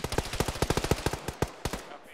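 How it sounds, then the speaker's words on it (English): Rapid bursts of machine gun fire in a tactical military shooter game, a quick run of evenly spaced loud shots followed by a few scattered single reports, with no voices. "There's some machine gun sound."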